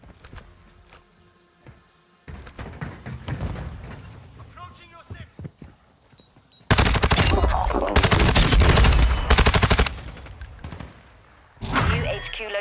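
STB 556 assault rifle fire in Modern Warfare 2, with scattered shots early on, then loud sustained automatic bursts and another burst near the end, mixed with game sounds.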